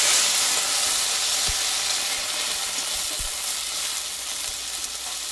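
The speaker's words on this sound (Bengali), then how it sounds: "দেখো এই পেঁয়াজটা আর আদা থেতো করে নিয়েছি, ভালোভাবে আমি ভেজে নেবো" Crushed onion and ginger fry in hot oil, a loud steady sizzling hiss with a couple of faint low knocks and no voices.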